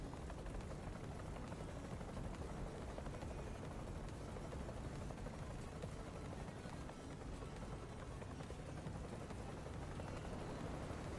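A helicopter in War Thunder gives a steady, dense rotor and engine roar that holds at an even level throughout, faint and continuous with no talking.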